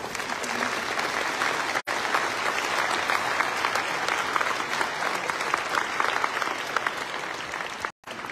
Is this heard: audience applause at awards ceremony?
yes